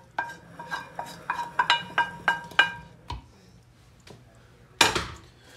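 Eggs, bacon and onions are stirred into a kugelis mixture with a utensil, which clinks repeatedly and rhythmically against a bowl, then pauses before a final louder clank, with no talking.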